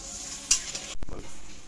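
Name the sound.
warm water poured into frying spice paste in a pan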